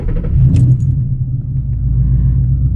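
A manual car's engine idles in neutral with a steady, loud low rumble close by, along with a brief light metallic jingle near the start and no talking.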